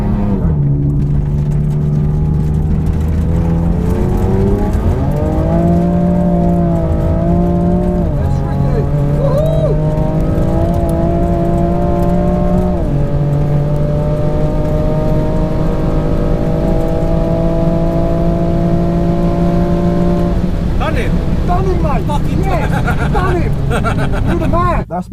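A 1000bhp BMW M5 accelerates hard in a roll race. Its engine climbs loudly through several rising sweeps, with shifts between them, and is heard from inside the car while people talk over the roar.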